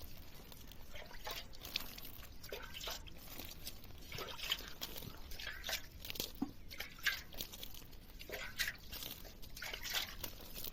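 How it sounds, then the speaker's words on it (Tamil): Water poured onto a plant in a rose garden makes a close, steady splashing trickle with scattered drips and crackles, with no voices. "அந்த செடி கொஞ்சம் ஊற்றி விட்டுரு."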